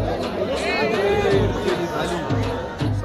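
Devotees crowd the shortcut route of the Aai Ekveera palkhi procession, a close, busy hubbub of many overlapping voices chattering at once without pause.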